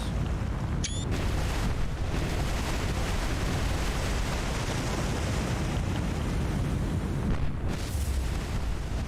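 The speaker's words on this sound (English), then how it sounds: "that massive explosion doesn't sound so good." Massive ship explosion in War on the Sea, heard as a sustained, loud, rumbling roar of blast and fire that fills the whole stretch, dense and unbroken, with a faint brief tone near the start.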